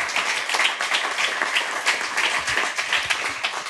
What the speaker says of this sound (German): An dieser Stelle mal ganz, ganz, ganz super dicken Dank und Applaus für Sven und David